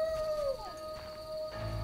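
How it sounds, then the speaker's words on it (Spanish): Rabid dog howling in The Witcher video game: a sustained, wavering howl that bends downward and then holds a steady tone, heard over a low background rumble, moderately loud and without talk. "Perro rabioso."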